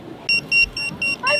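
A restaurant pager gives a series of short, bright electronic beeps repeating in a quick regular rhythm, with a final warbling tone at the end over quiet background noise.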